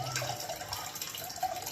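Water poured from a vessel into milk heating for sago payasam made with jaggery, a soft steady trickle over about two seconds, fairly faint and alone with no talk.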